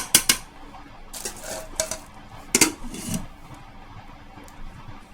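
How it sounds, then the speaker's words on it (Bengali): Cooked rice scooped from a pot with a metal spoon, a string of sharp close clinks and scrapes in bursts, then quieter rustling. "ভাত হয়ে গেছে হাঁড়ি থেকে এই যে চামচ করে ভাত নিলাম"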